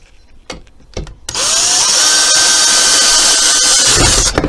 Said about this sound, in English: we'll screw these screws through